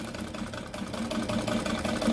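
A treadle-powered Vigorelli sewing machine with no motor stitches a straight seam, a steady mechanical chatter with regular rhythmic clicks, close and fairly quiet, with no talking.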